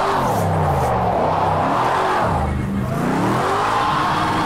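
A 900hp RTR Formula Drift Mustang in the racing game Project Cars 2, its engine revving loudly and continuously, rising and falling in pitch through second gear with tire squeal, no voices.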